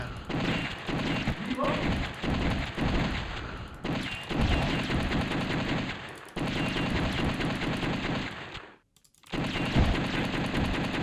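Rapid light-gun fire in the arcade shooter The House of the Dead, with dense bursts of shots and game effects running almost continuously at steady loudness, briefly dropping out near the end, with voices talking over it.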